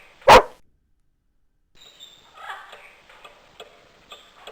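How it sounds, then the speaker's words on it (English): A miniature Yorkshire Terrier named Digby gives a single short, sharp bark up close, followed by a pause and then faint scattered bird chirps and light rustling. "One of Digby's distinguishing traits is that his bark is very,"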